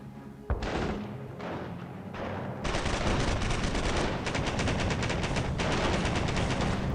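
Machine gun fire from a Company of Heroes battle rattles in rapid bursts: a few short volleys, then a loud, sustained stream of automatic shots with sharp repeated cracks, heard up close with no voices.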